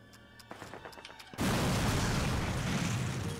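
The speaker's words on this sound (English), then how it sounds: "you were a little bit close to that explosion there, Winters." Explosion in the Call of Duty video game mission Launch Pads: a few sharp clicks and pops, then a sudden loud blast that turns into a sustained roaring rumble filling the rest of the moment.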